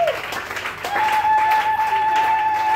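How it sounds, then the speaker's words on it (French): A church congregation bursts into applause to acclaim the Lord, a sustained clapping crowd close by with a held musical tone underneath. "Est-ce que tu peux acclamer le Seigneur?"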